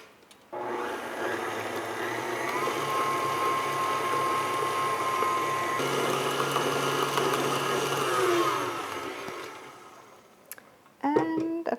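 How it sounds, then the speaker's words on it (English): An electric mixer beats poppyseed crumble cake batter with egg and vanilla sugar, a steady whirring drone that runs for several seconds, shifts pitch, then winds down before a brief clatter at the end. "I keep mixing."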